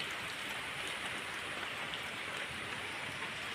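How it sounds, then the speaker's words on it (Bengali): Light rain falls steadily on a foggy, stormy day near an upazila central mosque, a close, even hiss of drops with no voices. "হালকা হালকা বৃষ্টি হচ্ছে"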